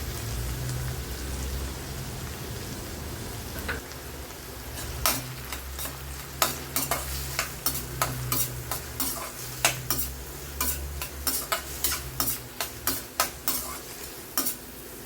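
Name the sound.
sautéing chopped onions in pan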